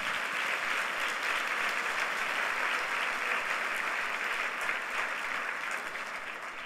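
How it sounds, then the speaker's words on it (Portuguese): Church congregation clapping in praise during a service, a dense, even wash of applause from many hands that holds steady and fades slightly near the end. "Dê um aplauso ao Senhor."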